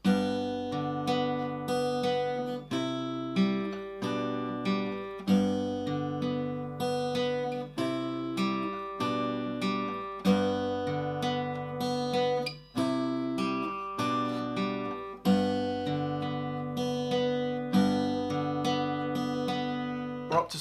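Acoustic guitar playing the intro to a song, a fast repeating fingerpicked pattern with bright plucked notes over a moving bass line, played alone and close for about twenty seconds.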